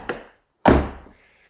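An Audi R8 car door closes with a solid thunk, preceded by a lighter knock, then quiet; the door is out of adjustment.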